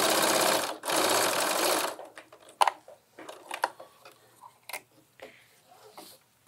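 A sewing machine stitches along a tote bag strap in two long continuous runs, loud and close, followed by a few faint clicks and handling sounds as the work is adjusted.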